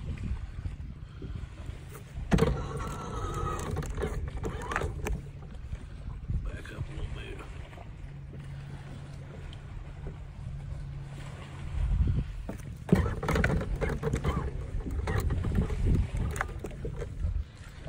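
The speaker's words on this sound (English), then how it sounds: "Boat wakes." Boat wake rolling past a small fishing boat on the water, with splashing, hull knocks and rushing wind across the microphone, a louder surge near the middle, and occasional voices underneath.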